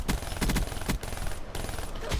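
The Annihilator gun firing in Black Ops 3: a quick string of loud, close shots in a steady rhythm, broken by a short pause before more firing, with no talk over it.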